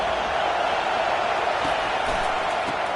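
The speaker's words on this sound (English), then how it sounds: "Listen to the crowd energy here in the early going." A college football stadium crowd early in a game makes a steady, dense roar that fills the whole space, a constant wash of distant voices with no distinct cheers standing out.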